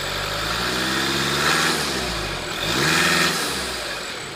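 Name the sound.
2015 Volkswagen Jetta TDI engine revving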